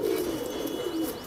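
Pigeon cooing in a low, soft, steady murmur from one of an old-breed collection of kabutar, close by with no talk over it.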